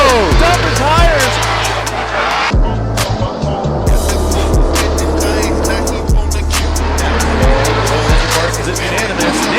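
A Nissan 240SX drift car screams through a competition run, engine revving hard with repeated tire squeals and skids, loud and close, while an announcer talks over the action.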